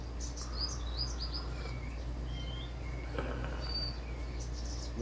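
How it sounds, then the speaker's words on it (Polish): Birds sing in the morning, several thin chirps and short whistles scattered across the scene at a moderate distance, over a steady low hum and faint insect-like buzz. "ptaszki śpiewają."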